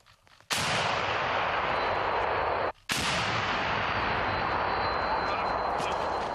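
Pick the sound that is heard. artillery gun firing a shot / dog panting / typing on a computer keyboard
artillery gun firing a shot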